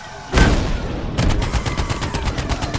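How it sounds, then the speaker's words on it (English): A tank cannon fires with a loud, heavy boom during a World War II D-Day battle in Medal of Honor: Above and Beyond. Rapid machine-gun fire follows. "Squeeze your main trigger to fire the tank's cannon."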